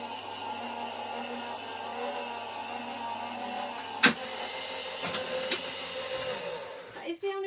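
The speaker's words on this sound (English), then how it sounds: "hopefully these will go through the die cutting machine no problem" A die cutting machine presses card plates, giving a steady low mechanical whir and grinding with a sharp clack partway through and a few bumps toward the end. A person talks faintly over it.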